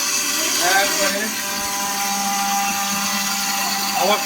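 A kitchen mixer grinder runs with a steady whining motor hum, rising briefly at the start and near the end, while people talk nearby over it.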